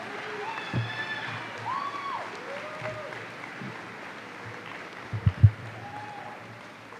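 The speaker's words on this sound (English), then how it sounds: "Let's give them another round of applause." Audience applause in a hall at a high school graduation ceremony after the senior choir performs, a sustained wash of clapping with a few louder thumps, under a speaking voice.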